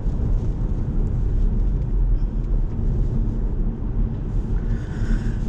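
Inside an Audi race car at Lakeside, a deep engine drone with road and wind roar fills the cabin steadily at moderate speed, loud and continuous without any voices.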